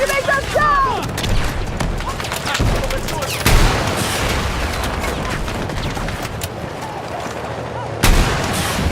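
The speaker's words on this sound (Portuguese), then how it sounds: "Lançando granada de fragmentação!" In a video game, a fragmentation grenade blast and bursts of gunfire form a loud, dense stretch of battle noise, with a couple of heavy booms standing out over constant rattling shots and a brief voice early on.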